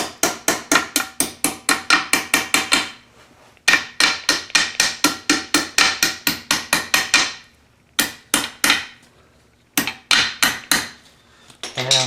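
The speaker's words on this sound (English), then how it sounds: "I'll go ahead and tap all the pins in" A small hammer tapping tapered pins into a Thunderbolt A2-4M blower, rapid bursts of sharp metallic taps in quick rhythmic runs, loud and close, with short pauses and a few isolated strikes at the end.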